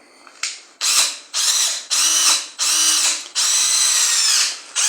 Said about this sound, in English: So there the bit is through the tile.